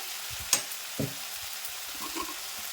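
Bottle gourd sautéing in a covered pan for lau ghonto gives a soft sizzle with a sharp clatter near the start and a couple of stirring scrapes afterward, close and fairly quiet.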